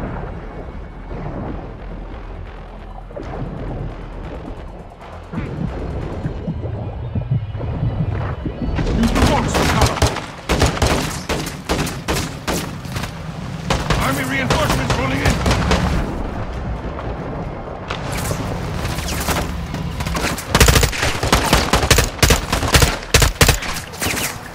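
Heavy firefight in Modern Warfare 2 (2022) campaign, dense rapid gunfire and booming explosions rattling almost continuously, loud and close, with voices speaking beneath the shooting.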